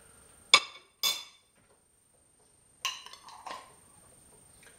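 Three teaspoons of an ingredient go into a glass while making a mint-lemon jelly mix, heard as a few close, sharp clinks and scrapes separated by quiet pauses, with no talking.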